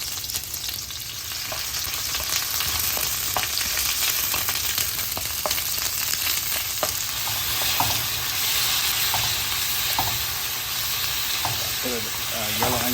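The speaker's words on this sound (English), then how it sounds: "I just throw the kaffir leaf on top so I can fry with the fish." Fish fries in hot oil with kaffir lime leaves, a steady close sizzle and crackle running throughout with scattered pops and occasional stirring clinks.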